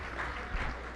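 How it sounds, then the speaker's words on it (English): Audience at an arts gala auction applauds, a steady patter of many hands clapping at moderate distance, fairly soft and even throughout a brief burst. "Let's give everybody a huge round of applause."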